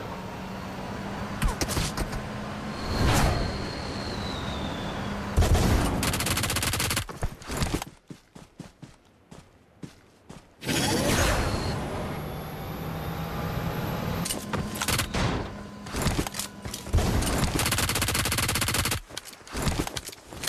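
First-person shooter gunfire comes in rapid bursts and long sprays of automatic shots, sharp and loud, separated by short quiet gaps, with vehicle-like rumble in the background and no talking.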